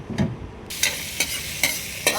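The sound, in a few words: sautéing onion and garlic for kare-kare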